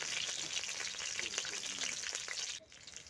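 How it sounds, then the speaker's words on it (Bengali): Chopped green chillies fry in mustard oil in a kadai for cauliflower chops, a steady close crackling sizzle that softens abruptly near the end. "সর্ষের তেল দিয়ে নিলাম আর দিয়ে দিচ্ছি কেটে রাখা লঙ্কা লঙ্কাগুলোকে দিয়ে একটু ভেজে নিচ্ছি"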